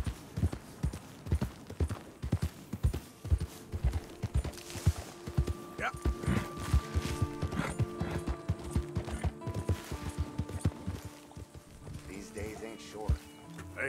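Horse hooves in the Red Dead Redemption 2 video game clip-clop in a steady, brisk rhythm while riding, close and prominent, with people talking over the hoofbeats.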